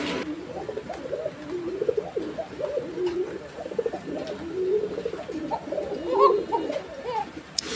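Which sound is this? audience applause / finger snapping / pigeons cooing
pigeons cooing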